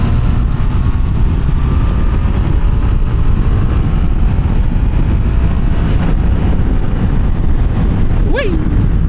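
Triumph Tiger 800 XR motorcycle engine roaring loud and steady under heavy wind buffeting as the bike accelerates, with no talk.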